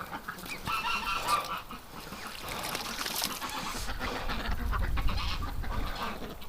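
Ducks in a winter pen honk and quack in a steady, overlapping chorus, with a rising low rumble in the later part; nearby, no speech.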